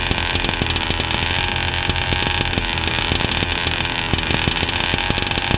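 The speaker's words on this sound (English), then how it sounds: "You can hear the engine change its sound as I move the carburetor shaft back and forth." A small engine runs continuously while the shaft of a worn carburetor is moved back and forth. It gives a loud, buzzy, rapidly pulsing drone with slight shifts in tone, and nobody talks.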